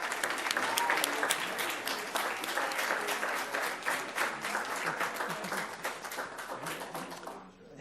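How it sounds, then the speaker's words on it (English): Audience applause for a retiring school district employee at a Palm Beach County meeting, a dense steady wash of many hands clapping that fades out toward the end. "Let's give her a big round of applause."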